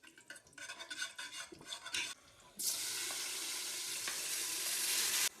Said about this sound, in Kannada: ಟೇಸ್ಟಿಗೆ ಸ್ವಲ್ಪ ಜೀರಿಗೆ ಹಾಕ್ತೀವಿ.